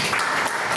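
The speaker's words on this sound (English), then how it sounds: "Let's give him a round of applause." An audience at a tech meetup bursts into applause, a short, dense crackle of many hands clapping close by, lasting under a second.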